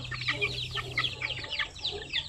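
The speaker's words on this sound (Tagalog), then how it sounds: "33 yung ating mga sisiw na basilan" Young Basilan native chicks, one to four weeks old, cheep in a dense, continuous chorus of high overlapping peeps, close and steady, with a low hum underneath and no talk.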